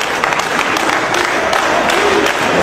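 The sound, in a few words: wrestling arena crowd cheering behind Shawn Michaels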